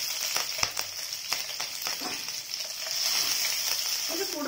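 Green chillies sizzle in hot oil in a pan with mustard seeds and urad dal, a steady crackling fry broken by a few sharp pops and stirring knocks, close and fairly loud.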